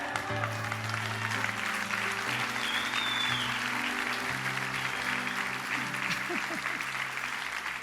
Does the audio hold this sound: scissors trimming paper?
no